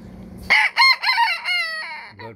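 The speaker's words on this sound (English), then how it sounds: "Yeah, that's my rooster." A rooster crows once, close and loud, a rising then drawn-out call that trails off after a couple of seconds.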